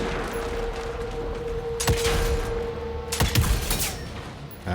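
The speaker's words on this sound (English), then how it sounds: "Ah, yeah, shooting." Gunfire in the video game Evil West comes as a few sharp shots and a short clustered burst over a steady low hum and mechanical background, fairly loud and close.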